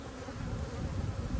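Honey bees buzz at an open hive around a black plastic frame, a dense, steady drone of many wings close by, continuous and fairly quiet with no talk.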